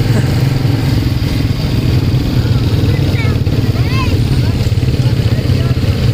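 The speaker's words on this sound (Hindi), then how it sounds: "चार बाइक आगे चार बाइक पीछे है" A group of motorcycles rides together on a mountain road in Gilgit Baltistan, their engines droning in a steady, loud, continuous hum close by, while people talk over the riding.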